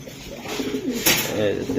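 Pigeon cooing from a large silver giribaz racing pigeon held up for sale, soft repeated low coos close by with a person talking over them.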